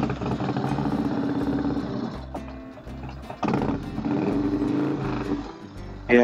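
A Harley motorcycle engine revs in neutral at high RPM, its rough, loud rumble surging and dropping back in several uneven bursts, close to the listener with no talking.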